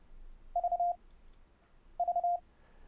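Morse code tones sent over the internet and looped back from a server, two short bursts of a clean, steady beep, each a quick run of dits ending in a longer dah, separated by quiet.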